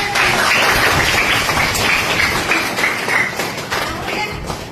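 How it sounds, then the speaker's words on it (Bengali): Schoolchildren in a classroom clap together, a dense, steady patter of many hands that stays loud throughout and fades slightly near the end. "হাততালি দাও।"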